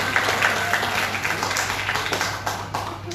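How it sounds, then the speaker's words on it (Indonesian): Audience clapping at a village-development gathering, a dense steady wash of many hands for about three seconds with a low hum underneath, moderately loud and without talk. "Tepuk tangan lagi harus."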